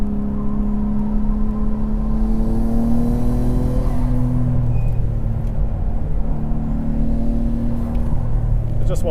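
A Nissan Skyline GT-R, an R32 or R34, runs at about 80% throttle on The Bend GT circuit, giving a steady, loud engine drone with slowly shifting pitch that holds for the whole stretch.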